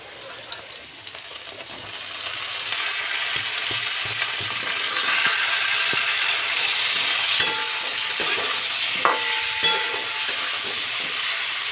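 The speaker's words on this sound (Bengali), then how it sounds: "ফুলকপি আলুটা ভাজা ভাজা হলো" Cauliflower and potato pieces fry with a steady hiss and sizzle in a pan, stirred now and then with scrapes and light clicks, moderately close and without talk.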